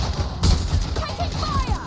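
Gunfire in Watch Dogs: Legion comes as a short, loud burst of close shots and impacts, with a brief voice over it.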